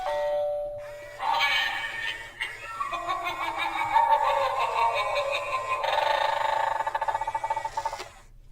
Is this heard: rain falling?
no